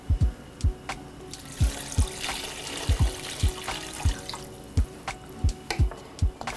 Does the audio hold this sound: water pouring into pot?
yes